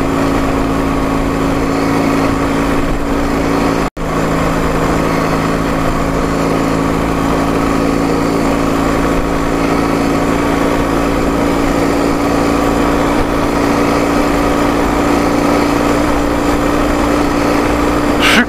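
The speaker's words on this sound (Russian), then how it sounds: "И знаете, так мягко работает двигатель." A motorcycle engine with a fault that stops it pulling runs as it warms up while riding: a loud, close, continuous even drone with one brief cut-out near the start.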